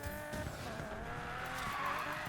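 A race car in Need for Speed Payback slides and skids across gravel with its engine droning continuously and tires scrabbling at close range.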